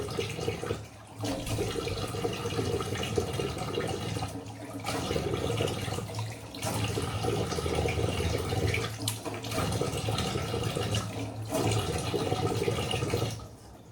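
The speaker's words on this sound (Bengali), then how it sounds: "সো এটা এখন ধুয়ে নিই খুব হালকা হাতে সফট করে মানে জোরে জোরে নয় হালকা হালকা করে ধোবে" A tap runs while someone rinses a face pack off with gentle splashing, a steady hissing stream of water broken by short pauses as the hands cup and splash, close and moderately loud, with no talking.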